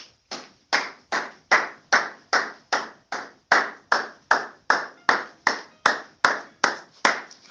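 A church congregation claps in a steady, regular rhythm, about two to three claps per second, with sharp, evenly spaced strikes that continue throughout and no speech over them.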